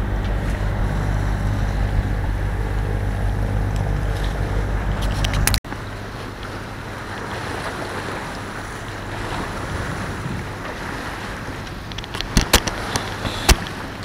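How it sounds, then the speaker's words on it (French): A boat engine runs steadily at 1800 rpm while cruising at sea at about five knots, a constant low drone with wind and water rush, broken by a brief dropout and a few sharp knocks near the end. "1800 tours de moteur. Et on fait du 4 nœuds 5, 5 nœuds."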